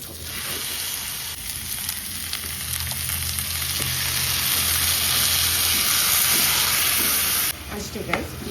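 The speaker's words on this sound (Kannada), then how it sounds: "ಇದನ್ನು ಫುಲ್ಲು ಹುರ್ಕೊಂಡ್ಬಿಡಿ." Food frying in a pan sizzles and hisses steadily and loudly throughout, with faint stirring scrapes; the hiss drops off abruptly near the end.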